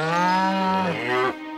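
A cranky cow gives one long, loud, drawn-out moo that bends downward in pitch before cutting off, heard alone at close range in an animated children's programme.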